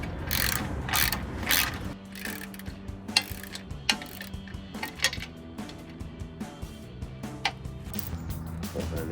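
A ratchet with a 16 mm socket tightens bolts on a winch plate for a Jeep Wrangler JL factory front bumper, giving rapid clicking runs and metallic clinks, close and loud, repeated in short bursts.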